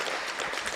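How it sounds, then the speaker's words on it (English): Brief burst of audience clapping at a Saturday meditation and Dhamma talk gathering at St. Mark's in Seattle, a dense, steady patter of many hands filling the room for under a second. "Clap, you can clap today."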